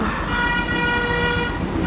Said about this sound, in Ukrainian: трактор якийсь їде. Я теж так буду. Їздить сигналить.